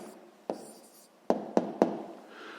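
A pen writes an answer by hand on paper, a few quiet scratches and taps in short separate strokes, close and soft with no voices.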